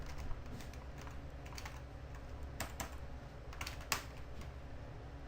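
Keys clacking at a computer keyboard as a short text is typed, a run of soft irregular taps with a few sharper strokes, close and alone without talk.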